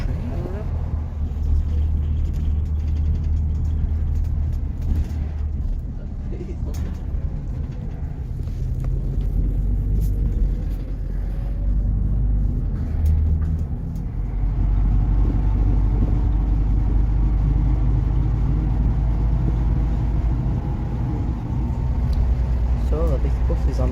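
Transdev 840 Coastliner bus running on a diversion route, a steady low engine drone throughout with people talking over it.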